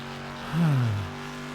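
A race car engine in the racing game Wreckfest as the driver feathers the throttle, swelling briefly into a louder revving tone at mid-clip before easing back to a steady low drone.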